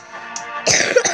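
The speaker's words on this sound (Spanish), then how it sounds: "¡Ay, la tos que no me deja en paz nunca!" A short burst of harsh coughing, a couple of rough throaty hacks close to the microphone.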